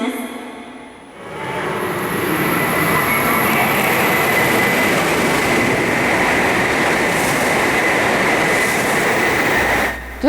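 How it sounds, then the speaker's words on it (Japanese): Train passing at speed through platform 2 of a Japanese station on the Hokuriku line, a loud sustained rush and rumble that swells in within the first second, holds steady for about nine seconds, then begins to fade near the end. "まもなく2番乗り場を列車が通過します。"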